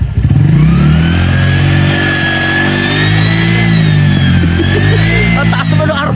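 An engine revs hard at high RPM, a loud close sustained roar with a wavering whine held steady for several seconds before it settles slightly at the end.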